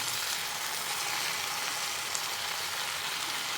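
Onion, tomato and mint sauté in a hot pan with a steady, close, even sizzle that runs unbroken from start to end, with no voices.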